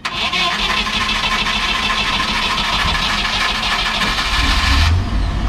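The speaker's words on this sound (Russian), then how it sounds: "Включаем зажигание." A UAZ Bukhanka van's engine started with the ignition while a booster pack is connected, out in a forest; a loud, steady mechanical roar runs continuously from start to finish.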